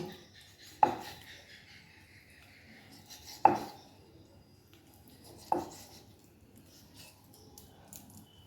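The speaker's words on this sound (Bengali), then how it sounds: "এবার আমি কেটে নেবো এগুলোকে পুরা এইভাবে আমি পিস পিস করে কেটে নিচ্ছি" A knife slices through layered khaja dough on a board for a Puri-style sweet, three sharp separate chops spaced a couple of seconds apart, close and fairly quiet, with soft rustling between.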